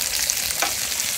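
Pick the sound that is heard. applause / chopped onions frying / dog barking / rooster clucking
chopped onions frying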